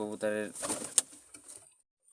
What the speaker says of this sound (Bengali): কবুতর দেখাচ্ছি